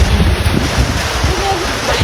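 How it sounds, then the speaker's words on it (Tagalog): Strong gusts batter the microphone at a mountain view deck in Norzagaray, Bulacan, a loud, rumbling wind roar that fills the whole moment with a faint voice underneath. "Sobrang hangin na."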